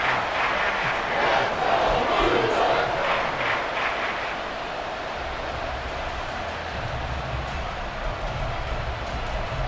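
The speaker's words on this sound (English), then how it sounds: "Crowd getting in it a bit already." A stadium crowd in the football video game Madden NFL 24 roars continuously, swelling louder in the first few seconds and then settling into a steady, dense wash of cheering.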